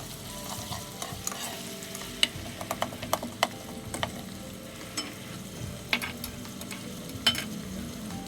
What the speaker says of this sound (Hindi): अब प्याज को हम हल्का सा सौते करेंगे